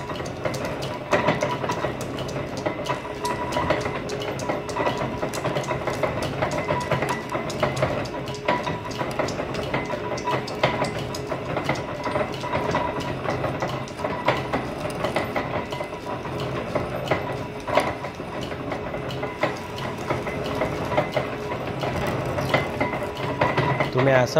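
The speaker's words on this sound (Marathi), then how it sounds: "मिक्सर मशीन सिमेंटचा." A cement mixer machine runs with a steady, dense metallic rattling and clanking from its chassis, continuous and loud at close range, with no talking.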